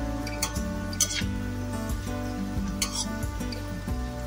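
Fine shredded potatoes fry in hot oil for jhuri aloo bhaja, a soft continuous sizzle with light stirring clinks beneath steady tonal background music.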